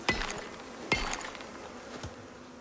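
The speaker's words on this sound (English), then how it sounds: "Come here, bees." Bees buzzing around a hive in the survival game Icarus, a few brief close buzzing passes with sharp onsets and fading tails over a quiet background.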